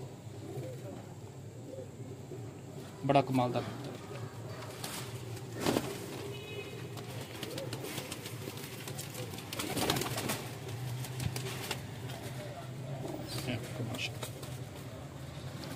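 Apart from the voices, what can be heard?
pigeons cooing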